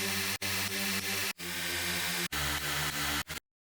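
Serum 2 wavetable synth patch with 15-voice unison and a digital wavetable oscillator, a dense, buzzy, gritty bass-music tone held in four sustained chunks separated by brief cuts, ending abruptly; no voices.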